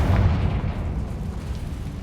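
A Confringo spell explodes in Hogwarts Legacy as a single deep, rumbling boom. It hits hardest at the start, then rolls on as a low, fading roar.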